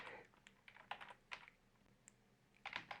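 Typing on a computer keyboard during a music software session, a quiet, close run of irregular key clicks in short bursts with pauses between them.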